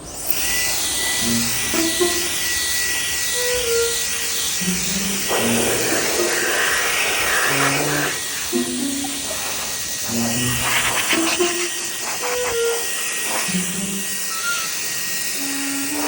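A small cordless air blower for washing cars whines in a steady high-pitched rush of air, close and loud for the whole stretch, with faint speech-like sounds underneath.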